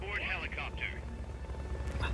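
Helicopter in Metal Gear Solid: Peace Walker, a low steady rotor drone heard under game voices and effects.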